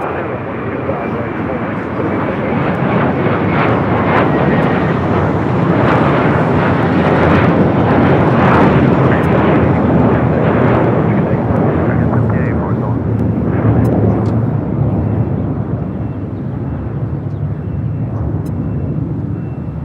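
A Delta airliner roars down runway 25 right at LAX on departure, a loud, continuous engine rumble that peaks midway and holds, with talk over it.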